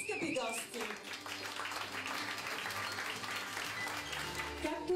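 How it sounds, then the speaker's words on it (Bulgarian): Dense applause from wedding guests fills the scene, with music and voices running underneath throughout. "Отново аплодисменти, скъпи гости!"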